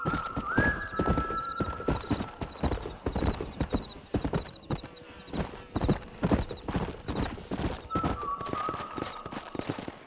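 Steady clip-clop of horse hooves at a brisk pace in the video game Red Dead Redemption Remastered, with a horse whinnying twice over the galloping rhythm, close and fairly loud.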